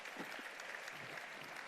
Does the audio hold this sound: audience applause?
yes